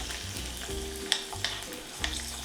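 Clementines drop into hot oil and fry with a steady crackling sizzle, punctuated by a few sharp pops and spatters, close and moderately loud.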